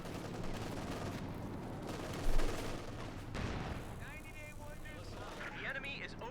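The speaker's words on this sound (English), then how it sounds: "Panther firing away" A Panther tank in Company of Heroes 2 fires amid a dense battle din of shots and explosions, with one heavy boom standing out early and a commentator talking throughout.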